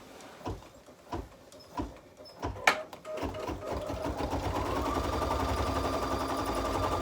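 An embroidery machine stitches a tack-down line on a bird-body appliqué, starting with a few separate clicks and thumps, then settling into a steady, loud, continuous rapid stitching rattle that runs to the end.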